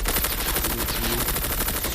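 Sniper rifle gunfire in the mobile shooter game Call of Duty Mobile, a loud dense run of rapid gunshots and bursts that fills the whole stretch, close and continuous with no pauses.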